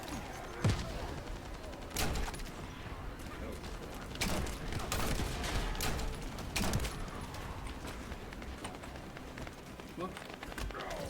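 Long-range gun fire in the video game The First Descendant: sharp shots crack out at scattered intervals over a dense, busy backdrop of game sound.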